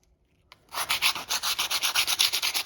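Coarse sandpaper rubs back and forth over a cracked plaster coving cornice in steady, even strokes, close and loud, starting after a brief pause and continuing without any speech.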